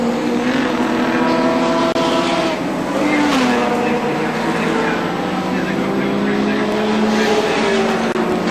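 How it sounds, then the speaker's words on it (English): Racing car engines from the 1984 Castrol 500 touring car race at Sandown, a loud continuous drone with pitch sweeping up and down as cars pass, under steady race commentary. "There's car 25 in third position, John Harvey at the wheel."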